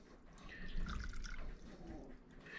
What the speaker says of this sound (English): So now I'm adding my water